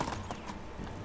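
Horse hooves clip-clop steadily at a walking pace in the medieval game Medieval Dynasty, close and clear over a soft ambient background, with no voices.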